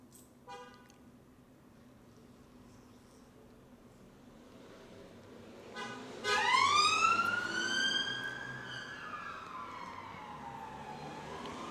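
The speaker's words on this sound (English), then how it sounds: "You can hear the police in the background." A police siren wails in the distance behind a quiet room, rising and sweeping in pitch for several seconds before trailing off, faint against low background noise.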